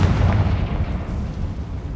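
A Confringo blasting spell bursts in Hogwarts Legacy with a loud, deep booming explosion that hits at once and rumbles away over about two seconds.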